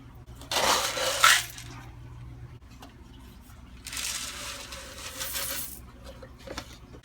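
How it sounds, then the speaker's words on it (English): Carbon pellets poured into a filter bag for a DIY hang-on-back aquarium filter, two bursts of gritty rattling pour separated by quieter handling sounds, close and moderately soft. "And then I'm going to put some of this carbon in the bag."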